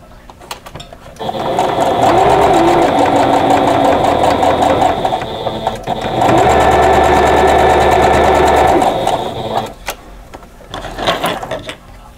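Loud, close sewing machine stitching rows of quilt blocks in two long runs with a brief pause between, its motor whirring and needle mechanism rattling rapidly, then slowing to a stop.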